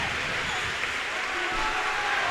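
Trojan fans at a high school volleyball match cheer and clap in a gym, a steady, mid-distance crowd roar with a commentator talking over it.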